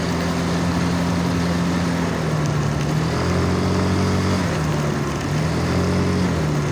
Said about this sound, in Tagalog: Hirap yung motor, kargado eh.